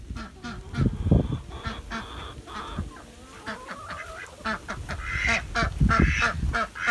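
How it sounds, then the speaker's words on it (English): Several ducks quack loudly in irregular bursts, their harsh calls overlapping and rising and falling in intensity nearby. "Noisy ducks."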